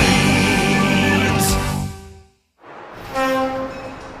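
A diesel locomotive's horn blares loud and close in a sustained chordal blast, breaks off briefly, then sounds again over the rumble of the train.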